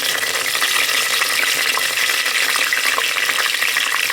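Cumin seeds and curry leaves sizzle and crackle in hot oil while cooking Sindhi kadhi, a steady close frying hiss with scattered pops, loud and unbroken, no talking.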